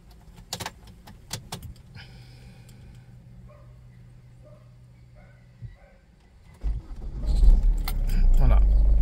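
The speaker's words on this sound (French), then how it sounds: "Et puis, je vais démarrer la voiture." A car's keys jangle, then the engine is cranked and starts, its steady running rising to a loud rumble near the end, with brief vehicle sounds under a quiet interior beforehand during a diagnostic session.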